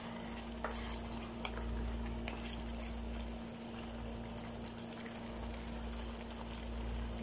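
Food frying in a pan while being stirred, with potatoes and corn added for a Saudi-style chicken dish; a steady low sizzle runs throughout with faint scraping clicks, moderately quiet and without talk.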